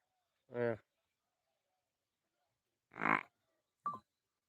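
Three separate low cow calls spaced apart in quiet surroundings: two deep, drawn-out lows and a shorter final one, moderately near.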